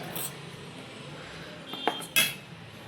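A metal spoon stirs a mixture in a bowl, giving two short clinks late on over a quiet, steady room background.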